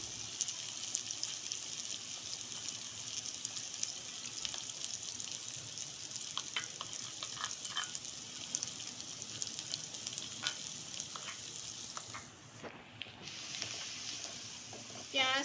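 Finely chopped onions, two large ones, sizzle steadily in hot oil, a soft continuous frying hiss with occasional stirring clinks and a voice talking over it.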